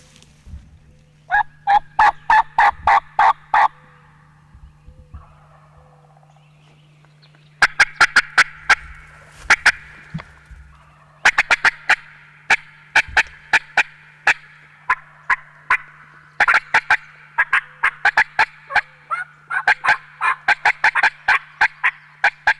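A wild Osceola turkey gobbles repeatedly on public land. The rattling calls are sharp and fairly close, coming in bursts of three or four with quiet gaps between, and they grow denser near the end, with a steady low hum underneath.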